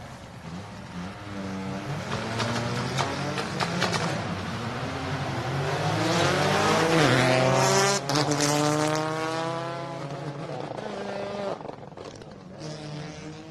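Rally car at the Adelaide Hills Rally pulling away from a stage start, engine revving up through rising gear-by-gear sweeps, loud and close, then fading as it moves off.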